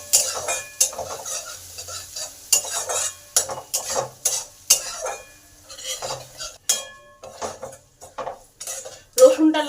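Garlic paste frying and being stirred in a pan, with sharp metal scrapes and clinks from a utensil against the pan in irregular bursts over a soft sizzle, close and fairly loud.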